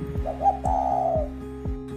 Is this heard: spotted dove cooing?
yes